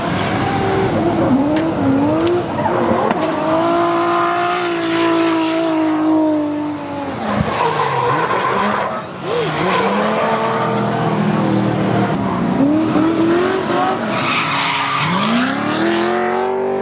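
Drift cars at Virginia International Raceway during HyperFest scream through sustained skids, loud engines wailing and rising and falling in pitch while tires squeal almost continuously, with crowd noise underneath.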